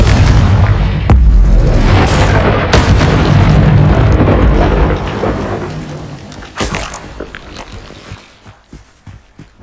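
A Confringo spell explosion in Hogwarts Legacy: a loud, heavy blast followed by sustained roaring rumble and crackling debris that gradually fades over several seconds, with sharp impacts partway through.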